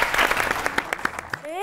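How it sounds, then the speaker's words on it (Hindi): Brief burst of audience clapping at a Rajasthani folk song performance, with sharp, uneven claps and a voice heard faintly under it before a singing tone starts at the end. "आपकी बहुत सी तालियों में नीरा लाल।"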